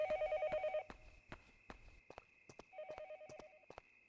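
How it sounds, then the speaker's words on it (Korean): A telephone rings in the video game Yomawari, a loud electronic trill in two bursts separated by sharp clicking footsteps, with no talk. "전화 소리 되게 시끄럽네"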